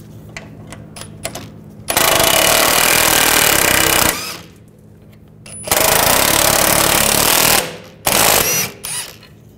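A power tool with an E12 socket removes rear shock absorber bolts on a 2007-2013 BMW 328i, three loud close rattling bursts of a few seconds each separated by brief pauses with small clicks.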